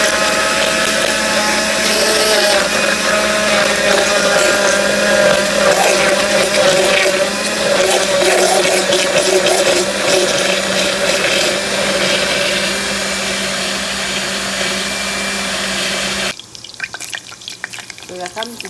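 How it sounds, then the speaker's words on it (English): A blender whirs loudly and continuously as it purees chili pepper, white onion and green pepper for an Egyptian koshari sauce, then cuts off abruptly near the end, leaving quiet room tone. "So I'm coming to combine them and blend them"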